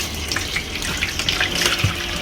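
Tap water runs steadily into a homemade fish tank holding small river fish and a crab, a close, continuous splashing gush with no talk.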